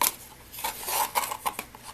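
A whisk or spoon scraping and stirring flour, baking soda and matcha powder in a bowl, with soft, irregular rubbing and clinking strokes at close range and no talk.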